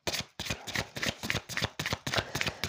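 Tarot cards shuffled by hand for a card reading draw: repeated quick riffling bursts in an even rhythm, close and crisp, with short gaps between passes and no talking.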